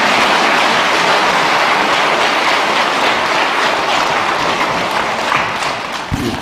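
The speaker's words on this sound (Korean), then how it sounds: "박수 쳐야 되는데." Sustained, dense applause from a church congregation during a Christmas Day Mass homily, loud and steady throughout with no voices over it, thinning slightly near the end.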